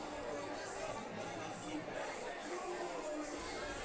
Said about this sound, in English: we have a good crowd, especially on the home side